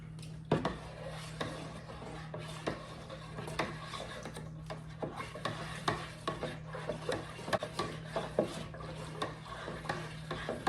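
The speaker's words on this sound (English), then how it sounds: "I'm gonna stir this very vigorously because I want some air in there" Honey and thawed fruit mead mixture stirred vigorously in a vessel, giving rhythmic sloshing and scraping strokes over a steady low hum, close and without talk.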